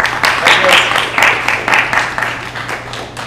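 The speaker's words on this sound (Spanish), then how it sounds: "Un aplauso para él y que disfrute" An audience applauds a speaker at a talk on lucid dreaming, with brisk bursts of clapping rising and falling in quick pulses, and a voice mixed in.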